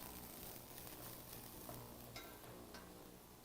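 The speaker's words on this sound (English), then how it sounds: "In our pan, we're going to add extra virgin olive oil. We're going to add our mirepoix. Mix that up a little bit." Mirepoix in extra virgin olive oil sizzles softly in a pan, a steady quiet hiss with a few faint scrapes of stirring.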